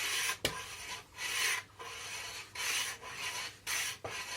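A hand plane shaves a plywood board by hand for a subwoofer speaker box. About six steady rasping strokes repeat roughly once a second, close and fairly quiet, with no talking.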